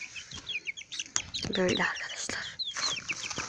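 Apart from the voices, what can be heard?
chickens clucking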